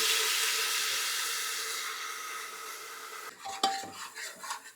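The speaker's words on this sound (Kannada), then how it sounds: "ಇದೊಂದು ಸ್ವಲ್ಪ ಹಸಿ ವಾಸನೆ ಹೋಗೋ ತನಕ ಫ್ರೈ ಮಾಡ್ಕೋತಾ ಇದ್ದೀನಿ" Ginger garlic paste frying in a pan for a mutton sambar, with a broad steady sizzle that fades, then several close scraping and clinking stirs of a utensil against the pan near the end.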